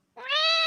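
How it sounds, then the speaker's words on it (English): A female house cat gives a single close, clear meow that swells and holds steady before cutting off, heard alone indoors in a quiet room. "the cat's here to say hello"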